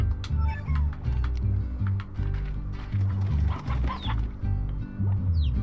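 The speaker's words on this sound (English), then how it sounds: "Chicken!" Close, loud clucking from chickens in the video game Slime Rancher repeats in a choppy rhythm, with game sound effects chirping over it.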